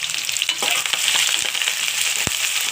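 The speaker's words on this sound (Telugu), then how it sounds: "చూడండి, ఉల్లిపాయ ముక్కలు బాగా వేగాలండి." Onion pieces frying in hot oil for a mixed-vegetable curry in a Kakinada home kitchen, a loud continuous sizzle close by, with scattered small crackles and one sharp tap.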